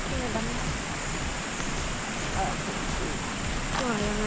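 Steady rushing water of Sungai Bantang waterfall at Bekok, Segamat, a continuous broadband roar filling the scene, with brief voices faintly audible over it.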